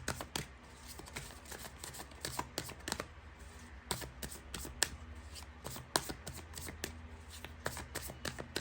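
Tarot card deck being shuffled by hand up close: repeated crisp riffling snaps and flicks of cards in an irregular rhythm, faint and with no speech.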